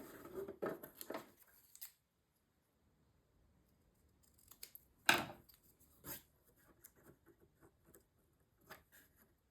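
Scissors snipping a piece of paper for a Stamperia Songs of the Sea mini album treasure chest page, a few soft crisp cuts and rustles, close and quiet with pauses between them.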